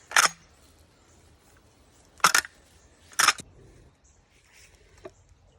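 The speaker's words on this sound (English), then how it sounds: "This is what it looks like when you're levering it." A Winchester 1887 lever-action rifle chambered in .70-150 WCF is worked open and shut, giving three sharp metallic clacks, one near the start and two close together a second apart later, over quiet background.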